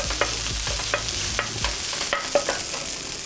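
Garlic and tomato paste fry in a pan under constant sizzling, while a spoon stirs often and leaves sharp little scrapes and taps over the hiss.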